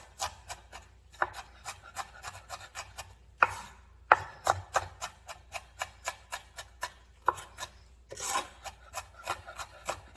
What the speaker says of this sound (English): I may just kind of chop it up a little bit more just to get it a little bit finer.